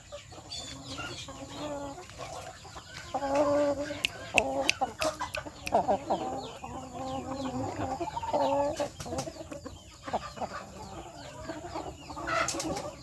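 Burmese chickens cluck repeatedly at close range in uneven, chattering bursts, with scattered sharp clicks and scratching noises among them, the calls rising and falling over several seconds.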